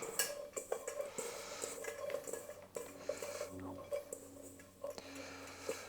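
Utensil scraping and clinking against a bowl as seasoned ingredients are mixed together, a steady run of light taps and scrapes close by over a faint room hum.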